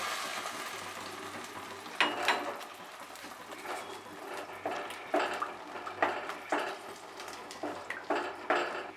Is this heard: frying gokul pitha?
yes